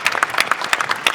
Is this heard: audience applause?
yes